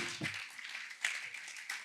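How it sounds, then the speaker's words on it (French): Audience at a conference on European situations and solutions applauding a newly introduced guest, a faint, thin patter of scattered clapping from a small group, heard at a distance. "vous pouvez l'applaudir"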